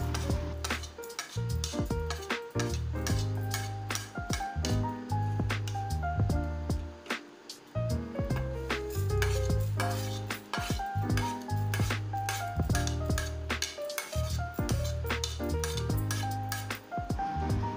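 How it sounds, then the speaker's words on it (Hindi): Whole spices being dry-roasted and stirred in a pan for bitter gourd stuffing, with steady scraping and rhythmic clinks of a utensil against the metal, close and continuous, alongside faint sizzling and no talking. "हम इन मसालों को रोस्ट इसलिए कर रहे हैं ताकि स्टफिंग में इसकी खुशबू बहुत अच्छी आए।"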